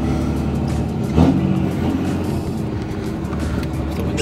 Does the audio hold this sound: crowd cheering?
no